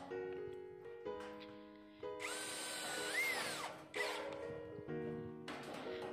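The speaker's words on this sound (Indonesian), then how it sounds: "kita bor bagian pinggirnya teman-teman" A power drill bores into the edge of a homemade kitchen washbasin in short, close bursts. The motor whines and its pitch shifts, with pauses between runs.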